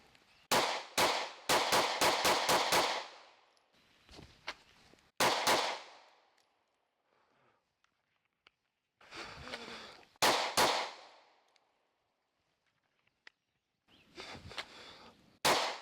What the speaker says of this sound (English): do a little bit of drawing and shooting. This is with the 13 round mag